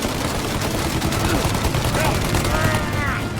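Heavy gunfire in a Mafia: Definitive Edition shootout, dense rapid volleys of shots rattling continuously at close range, with a voice shouting over the din.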